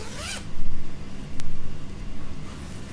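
A zipper on a large knitting project bag with a fox-shaped zipper pull rips open in one quick, close stroke, followed by soft handling rustles and a low background rumble.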